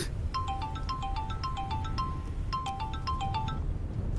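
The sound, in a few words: mobile phone ringtone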